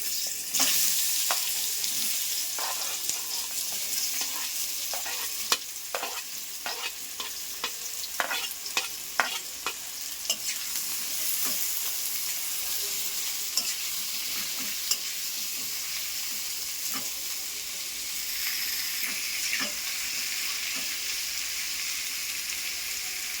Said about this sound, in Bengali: ওই তেলেতেই আমি এঁচোড়গুলোকেও একটু হালকা করে ভেজে নেব।